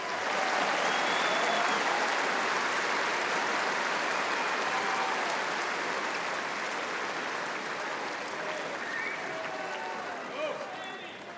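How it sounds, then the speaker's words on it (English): A stadium crowd at the 2012 Australian Open final applauds the chair umpire, a broad, sustained wash of clapping from thousands of hands that holds steady and slowly tapers near the end. "Please give him a warm round of applause"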